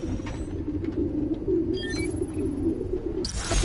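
Pigeons cooing in a city park in the Spider-Man: Miles Morales video game, a steady low murmur of many birds calling together at close range, with a few brighter chirps over the top and no talking.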